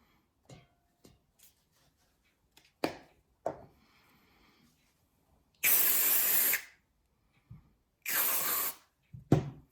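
WD-40 sprayed onto a Ruger 10/22 rifle during cleaning: two loud, close hissing aerosol bursts of about a second each, amid quiet handling clicks and taps.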